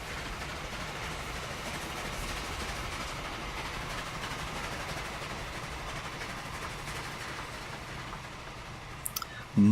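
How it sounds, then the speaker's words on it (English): A train rolling past in the Transport Fever railway simulation game, a continuous low rumble with faint rhythmic clatter of wheels over track, moderately loud and steady, ending in a sharp click. "I will be back just after this train passes us."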